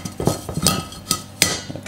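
Metal clanks and clinks several times in an irregular rhythm as a metal steamer insert is set down and settled inside an Instant Pot inner pot, close by.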